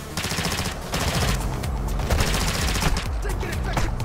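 Gunfire in the video game Call of Duty Modern Warfare II DMZ: rapid bursts of automatic weapon fire, loud and continuous throughout, dense overlapping shots with a steady rattle.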